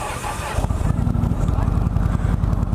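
A 2018 Indian Chieftain Dark Horse motorcycle engine idles in neutral close by, a steady low rumble with rhythmic pulsing, while people talk over it.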